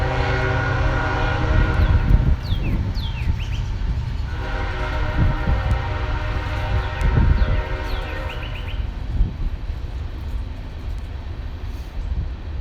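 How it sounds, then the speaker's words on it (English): An Amtrak train passes at a steady, continuous rumble with clanking rail noise, while faint bird chirps rise above it, and there is no talking. "Well, maybe that was the Amtrak."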